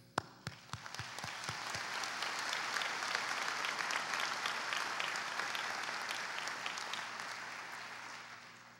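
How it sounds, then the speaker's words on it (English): A graduation audience breaks into applause, a few sharp separate claps at first that swell into steady, dense clapping from a large crowd and hold to the end, somewhat distant. "I applaud you all."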